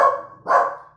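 A dog gives two sharp, close barks in quick succession, the second slightly louder, with silence between.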